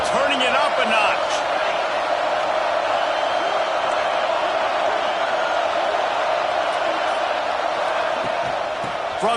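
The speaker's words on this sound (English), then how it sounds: "Second down, and this crowd is turning it up a notch." Loud, steady roar of a football stadium crowd during a Clemson versus Notre Dame game, a dense wash of cheering and noise that holds at full level throughout without letting up.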